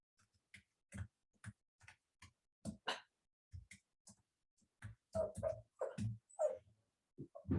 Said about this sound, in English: Sorry if you hear the little doggy in the background.